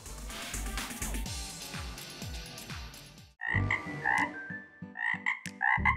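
Frogs croak in short repeated bursts, loud and close, after a dense stretch of other clattering sounds; no voices.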